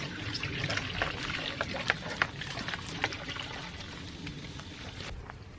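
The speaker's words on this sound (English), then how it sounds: "I'm just going to use the same recycled water to pour it back into the soil" Recycled water poured from a container back into succulent container soil on a front porch, a steady close trickle and splash with a few brief drips and knocks, no voices.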